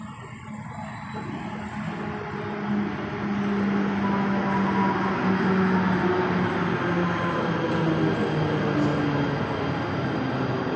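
A Mumbai local train bound for CST rolls into the station, a steady loud rumble of wheels and carriages building in the first few seconds and then holding, with a faint high whine overhead.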